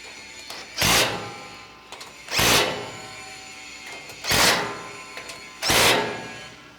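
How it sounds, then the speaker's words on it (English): Nuts on a MIRO LD mechanical unit support being tightened with a 9/16 inch socket, heard as four evenly spaced bursts of ratcheting, each about half a second long, close and fairly loud. "all I'm going to do to tighten these down is just tighten it until the lock washer is flat"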